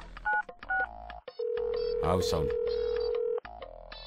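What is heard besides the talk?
telephone dialing tones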